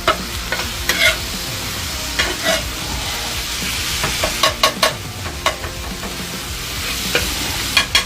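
A spatula chops and scrapes cheesesteak meat on a sizzling griddle, with close, loud, irregular metallic taps and scrapes over a continuous frying hiss.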